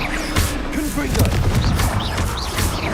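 Confringo, the blasting curse in Hogwarts Legacy, fires as a string of booming impacts and crackling blasts over a dense, continuous backdrop of fighting, with a raised voice shouting in the thick of it.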